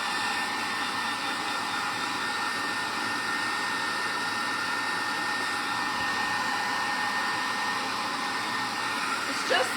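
A blow dryer runs continuously at close range, drying paint on a cardboard box Easter basket. The airflow roar is steady and unbroken for about ten seconds, with no talking.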